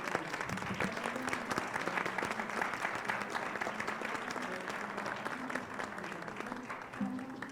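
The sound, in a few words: audience applauding panelists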